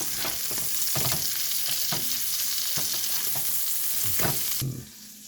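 Salisbury steak patties fry in a pan with a steady, close sizzle, broken by a few soft utensil scrapes, and the sizzle drops away sharply near the end.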